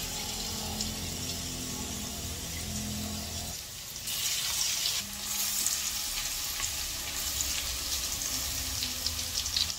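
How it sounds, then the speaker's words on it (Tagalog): Garlic is sautéed in a pan, giving a steady frying sizzle at moderate distance that shifts partway through as more food goes in, with a faint running-water sound alongside. "Igisa ang bawang."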